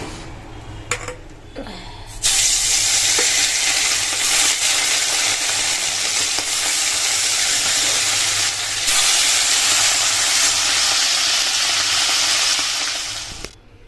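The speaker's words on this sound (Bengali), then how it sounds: "এই দেখো তেল কিন্তু গরম হয়ে গেছে চলো মাছটা আমি ভেজে নিচ্ছি" Fish rubbed with chili powder dropped into hot oil: a loud, broad, steady sizzle bursts in after a couple of seconds of faint clinks and hisses without pause until it cuts off near the end, up close.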